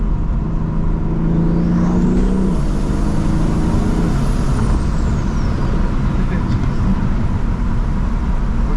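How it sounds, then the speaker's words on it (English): A BMW F80 M3 with a stock-housing turbo, likely an anti-surge housing, revs under load, with deep engine drone, a loud rising and falling turbo whistle, and a hiss near the end, heard from inside the car. "this turbo is like super loud for what it is on the stock housing"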